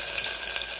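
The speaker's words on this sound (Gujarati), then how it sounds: "આપણું તેલમાં રાઈ તતળી ગઈ છે" Mustard seeds, cumin and asafoetida sizzle in hot oil with a bright, steady crackling hiss, close and loud in a brief burst with no voices.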